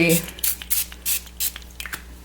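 A spray bottle spritzes melt and pour soap molds while making Valentine loaf and shaped soaps, giving a series of short, sharp hissing bursts spaced unevenly, close up.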